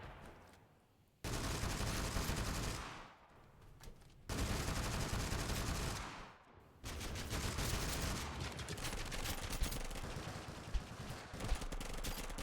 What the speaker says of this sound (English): You should not be shooting me.